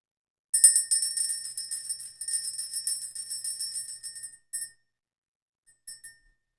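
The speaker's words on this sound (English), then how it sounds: "We are going to ring the bell." A small bell is rung to clear energy, giving bright, rapid repeated ringing for several seconds, then a few isolated strikes fading into silence, with no voices.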